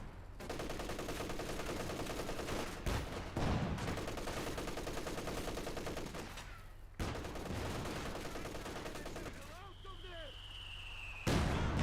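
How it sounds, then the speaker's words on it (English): A mortar shell lands in the Company of Heroes 2 battle game amid ongoing machine-gun and artillery fire. Sharp explosive bursts punctuate a constant crackle of gunfire, and a commentator's voice runs beneath the combat. "Good mortar hit there, force him back."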